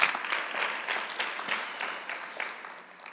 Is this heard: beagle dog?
no